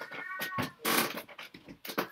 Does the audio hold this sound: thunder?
no